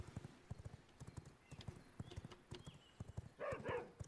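Hooves clip-clop at a steady, brisk trot as a horse travels in the video game V Rising, the beats fairly close and distinct, with a short burst of another game sound near the end.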